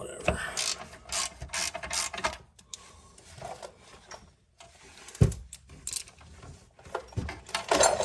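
A hand ratchet wrench clicks in quick bursts while working on a minivan, each run a rapid close pawl rattle separated by pauses and short clanks.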